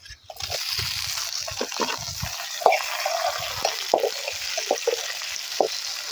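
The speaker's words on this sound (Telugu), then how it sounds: "ఎర్రగడ్డలు అయితే వేగిపోయండి. తర్వాత అయితే మన టమాటాలు అయితే వేసేసుకున్నాము." Onions and tomatoes frying in a pan during outdoor village cooking: a steady hiss and sizzle with intermittent stirring clinks and scrapes, close and moderately loud, with no talking.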